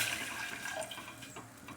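Water poured from a bowl into a cooking pot while making rice-flour dough for steamed modak, a soft continuous splashing trickle heard alone and fairly quiet for a moment.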